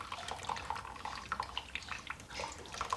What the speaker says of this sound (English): slowly, pour the majority of the water through.